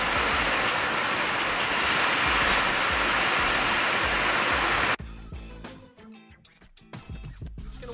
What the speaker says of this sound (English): And it's starting to pour downrange again.